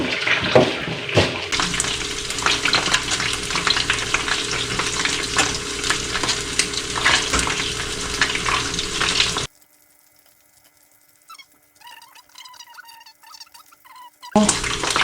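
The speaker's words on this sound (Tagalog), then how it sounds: "Prito natin ito." Loud, crackling sizzle of tofu frying in a pan, with stirring scrapes, then a sudden drop to near silence with a few light clinks.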